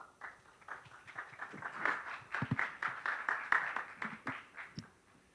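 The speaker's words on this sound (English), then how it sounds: "a big round of applause again for the panelists" Audience at a Polish-African economic forum panel session applauding the panelists, a dense, steady round of clapping that builds and holds for several seconds before tapering off, with no voices over it.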